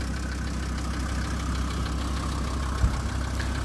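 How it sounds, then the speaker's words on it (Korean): An old 2005 SsangYong Korando engine idles steadily with a low, rough rumble, close by, with a faint knock around the midpoint and no talking. "생각보다 엔진 소리는 엄청 좋습니다"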